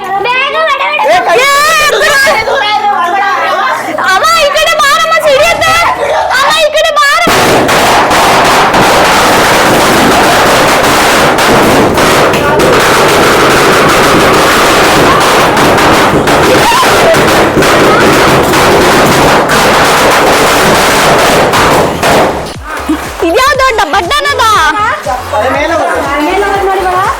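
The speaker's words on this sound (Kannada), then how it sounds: "ಇಷ್ಟೊತ್ತಂಗ ಪಟಾಕಿ ಹೊಡಿತಿದ್ವಿ" Firecrackers burst in a dense, continuous crackle during a Deepavali celebration at a family home, loud and close, with children chattering and shouting before and after the barrage.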